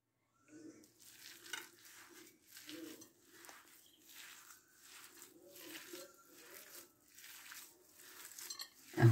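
Burger meat mixture with breadcrumbs being kneaded by hand: soft, wet squelching and slapping pulses in an irregular rhythm, close and quiet.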